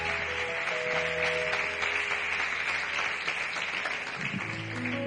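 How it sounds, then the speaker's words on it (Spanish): A church congregation gives sustained, loud applause that fills the whole span as a steady wash of clapping, with faint musical tones underneath. "Vamos, denles aplauso fuerte a Dios."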